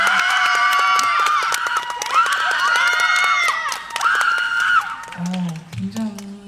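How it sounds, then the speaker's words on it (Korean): A crowd at an outdoor DMZ picnic concert in Paju screams and cheers loudly and continuously, with shrill overlapping voices and some clapping, before a performer begins speaking near the end. "인원에 비해서 많은 이런 비명 소리 나쁘지 않아요."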